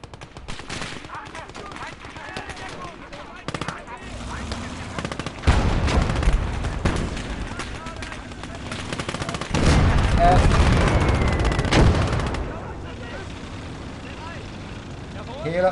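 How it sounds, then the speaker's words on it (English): Machine gun fire in the WWII strategy game Close Combat: Gates of Hell, with rattling bursts of gunfire swelling into two loud stretches among distant battle noise, as a voice talks over it. "There is a machine gun up there."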